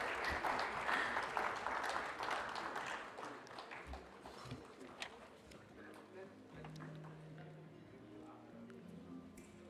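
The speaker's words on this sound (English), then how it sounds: "A huge round of applause, ladies and gentlemen." Applause from a conference audience honouring an award presentation, heaviest at the start and thinning out over several seconds, with murmuring and scattered sounds mixed in.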